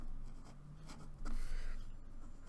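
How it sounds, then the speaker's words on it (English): Handwriting while solving an inequality, a faint close scratching of pen or marker strokes in short bursts over a steady background hum. "I'll write down here."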